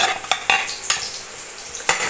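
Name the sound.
chopped onions frying and being stirred in a pan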